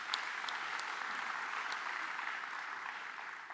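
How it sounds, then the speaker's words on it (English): An audience at a water and sanitation conference applauds the Director General and team: dense, even clapping from a sizeable crowd that holds steady for several seconds, with no one speaking over it. "Let's give our Director General and the team a round of applause"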